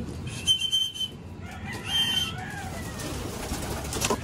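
Birds in a pigeon loft call and coo in overlapping bursts over a steady rustling background, moderately close, with no one speaking.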